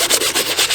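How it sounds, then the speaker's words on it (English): Sandpaper rubbed by bare hand across a surface during a Sprinter van build, a close, loud, continuous scratchy rasp in rhythmic back-and-forth strokes, with no voices. "Who else hates sanding with your bare hands and only this piece of sandpaper?"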